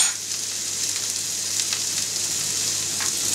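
Filet mignon steaks frying in a hot pan with a steady, close sizzle and crackle that holds throughout, broken by a few brief pops and spits of fat.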